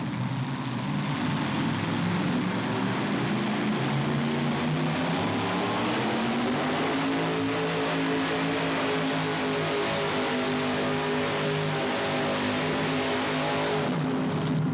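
Eddie Sullivan's S10 Chevrolet pulling truck from Warsaw, Kentucky, engine roaring loud and sustained at a truck pull, a dense continuous drone that climbs in pitch midway and holds steady, with no talk over it.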